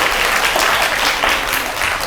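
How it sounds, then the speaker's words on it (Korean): An audience at a public science lecture at a Korean university claps to welcome the lecturer. The applause is a brief, dense, fairly loud burst of many hands with no speech. "경북대학교 엄인철 교수님 큰 박수로 환영해 주시길 바랍니다."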